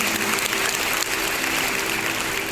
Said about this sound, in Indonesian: tepuk tangan lagi untuk kebaikan Tuhan.